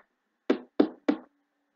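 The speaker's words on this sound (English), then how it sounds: "on the door came a tap" Three crisp knocks on a door, evenly spaced and close, ringing out sharply against silence as a sound effect in a spooky children's story reading.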